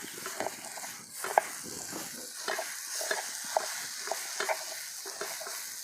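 Green chillies and eggplant being crushed and sautéed for thecha on an iron griddle: repeated scraping and pressing strokes in an uneven rhythm over a soft, steady sizzle, close and moderately loud.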